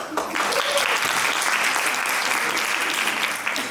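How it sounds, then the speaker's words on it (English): Conference audience applauding at the No Hate Embassy event, a full, even burst of clapping that swells quickly and holds steady to the end. "A big applause for them."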